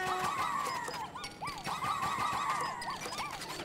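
Dog creatures in the video game Pikmin 4 give repeated short yelping, whinny-like calls over a busy background of clip-clopping footsteps, loud and close.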